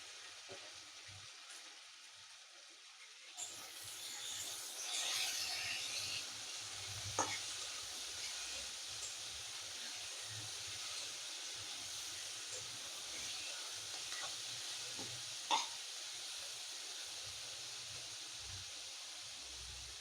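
Two kinds of capsicum frying in a pan with oil, for Mughlai paratha. After a quiet start there is a soft, steady sizzle with occasional stirring scrapes and a couple of small pops, continuous and close but low in level.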